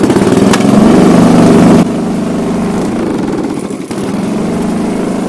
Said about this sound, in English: you want to take your thatcher. For here we're going to have it set on 4